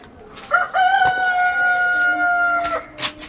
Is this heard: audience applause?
no